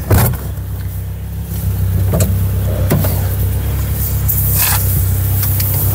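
A Honda Prelude, a youngtimer about 35 years old, pulls away for a drive, its steady engine and road rumble filling the cabin after a couple of brief clicks and knocks, with no talking.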